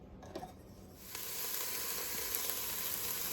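Garlic, onion and scallion hitting a hot pot for smoked pork callaloo: a few soft knocks, then a sudden steady hiss of sizzling that carries on evenly.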